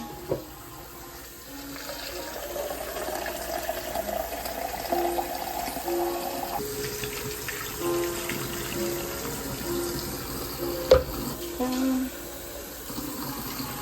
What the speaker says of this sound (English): put it in this pot like this. We're going to add some water.